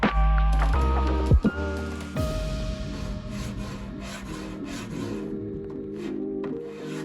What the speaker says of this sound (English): I did have to get the scraper out before I could move on to the sanding.